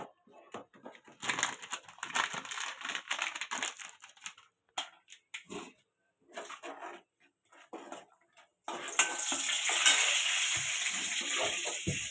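Cashew nuts fry in hot ghee in a home kitchen pan, giving scattered soft crackles and pops that build into a steadier, brighter sizzle near the end, close by with no talking.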